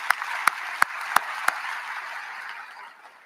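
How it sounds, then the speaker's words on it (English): An audience applauding state leaders at a city address, with a steady wash of clapping behind a few sharp, distinct claps near the start, fading out after about three seconds. "Give our state leaders a round of applause."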